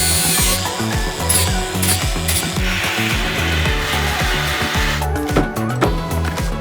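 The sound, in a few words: power tool grinding down truck bed part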